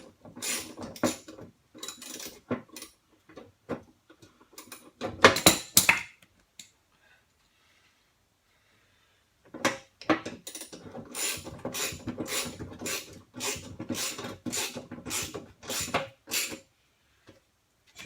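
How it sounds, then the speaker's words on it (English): A ratchet tightens the blade retaining nut and spindle bolt on a John Deere mower deck, giving rapid, close clicking runs, a pause, then a long steady sequence of evenly spaced clicks. "So get our ratchet on, and we're going to cinch those up."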